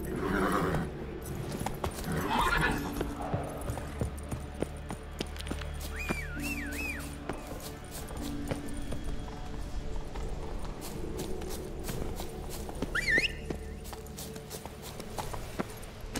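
Roach the horse gallops in The Witcher 3, hooves clip-clopping in a fast steady rhythm close by, with a couple of short whinnies and snorts breaking through the drumming.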